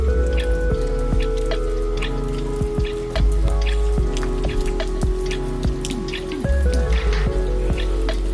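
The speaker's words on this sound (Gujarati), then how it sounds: "અત્યારે જો આ સાઈડ છે ને બહુ વધારે વરસાદ છે." Heavy monsoon rain pours steadily, a dense hiss with many close drips and drops striking surfaces, loud and continuous throughout with no voices.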